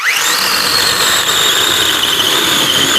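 A Troozy 6-inch cordless electric chainsaw spins up quickly, then holds a loud, steady, high-pitched motor whine close by for several seconds with no talking.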